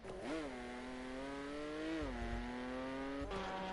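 Classic 1990s-2000s Le Mans race cars, including Ferrari, Lamborghini and Audi, in a racing video game, a steady engine whine rising and shifting pitch as a car revs and passes, fairly faint.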